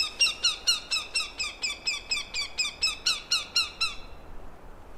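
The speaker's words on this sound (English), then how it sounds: "Okay, so that's a northern goshawk," A juvenile northern goshawk in Grand Teton National Park giving a rapid series of about fifteen loud, piercing repeated squawking calls in a steady rhythm, nearby and clear, tapering off at the end.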